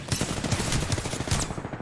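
Automatic gunfire in a shooter video game pounds out as one sustained, loud burst of rapid, evenly spaced shots lasting about two seconds, with no talking over it.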